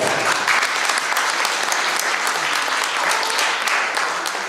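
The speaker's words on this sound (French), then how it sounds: "Merci de m'applaudir." An audience at a French lecture on philosophy of technique claps steadily, dense applause of many hands filling the room without letup for several seconds.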